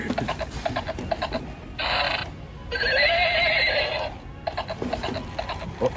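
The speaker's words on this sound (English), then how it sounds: "That is one feisty horse." A horse whinnies loudly twice in long, shrill bursts, with lighter clattering and rustling around them.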